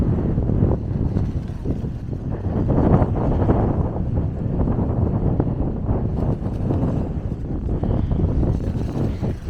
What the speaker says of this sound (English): Very windy here at Port Victoria,